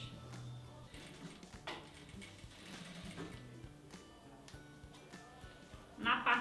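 A sewing machine stitches the front fabric pieces of a phone accessory holder in quick mechanical bursts, moderately close and fairly quiet, with short pauses and a louder rattle at the end.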